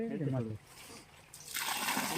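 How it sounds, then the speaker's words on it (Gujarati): Water poured onto a jackfruit sapling, a steady splashing trickle that rises near the end, preceded by a person speaking. "થોડું પાણી ભરી લઈ કે નાખ દે."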